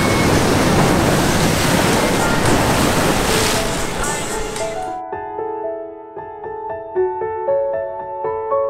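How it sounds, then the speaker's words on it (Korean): Loud ocean waves crash onto the rocky shore at Tanah Lot, Bali. The surf roars as a close, broad wash for about five seconds, then gives way to a melodic tune. "여기가 파도가 엄청 치고 위험하네요."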